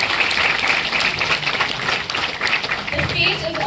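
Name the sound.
audience applause for a speaker at a tech event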